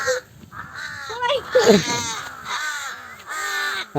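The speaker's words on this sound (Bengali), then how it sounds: "এই যে কাক" Harsh crow caws ring out amid the chatter of people talking nearby, the calls repeated in short bursts.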